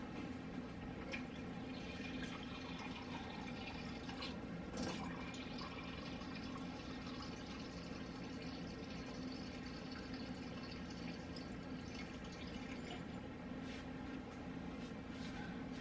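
Water pours steadily from a tap into a measuring cup for cooking, a continuous close filling sound with faint drips, running without pause for the whole stretch.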